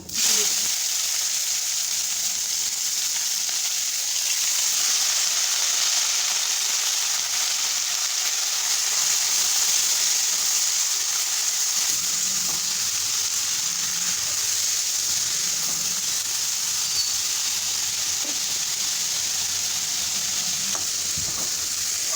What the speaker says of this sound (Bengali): উচ্ছেটা আমি 2-3 মিনিটের জন্য ভেজে নেব